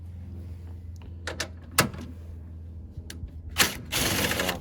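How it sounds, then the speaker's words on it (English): A ratchet with a 10mm socket works on the air intake bolts of a Toyota 1AZ-FE engine, giving short clicking bursts and scattered metallic clunks up close, ending in a longer rasping stretch. "I will now proceed to remove the air intake. For this, I will use a 10mm socket."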